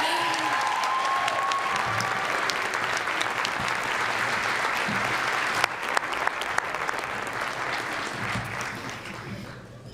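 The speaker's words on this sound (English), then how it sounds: "I want the clapping to die down a little bit so we can clap for her again." Sustained applause from a large crowd at a Boys & Girls Clubs Youth of the Year presentation, dense and steady for the full length with a few sharper claps, easing slightly at the end.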